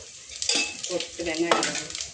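Metal utensils clink and scrape against a pan over a soft sizzle of fennel seeds, cinnamon and bay leaf tempering in hot oil, with a few sharp knocks and a brief voice in the background.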